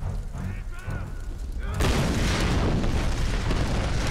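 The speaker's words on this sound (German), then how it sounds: "Oh, das war haarscharf mit der Explosion." A sudden booming video game explosion bursts in after a quieter stretch, followed by a dense, rumbling roar that continues loudly.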